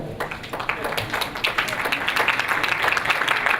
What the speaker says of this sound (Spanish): del meteorólogo Raúl Mayorga Raposo, a quienes vamos a recibir con un fuerte aplauso, por favor.